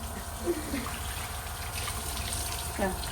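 Tap water runs steadily as fish are washed in a kitchen, a soft constant splashing hiss heard throughout, with a couple of brief voice fragments over it.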